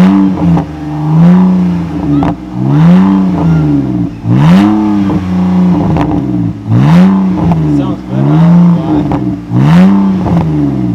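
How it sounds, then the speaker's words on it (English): A car's exhaust crackles and pops through a series of repeated revs, each rising and falling in a steady rhythm, loud and close. "But my car kind of crackles."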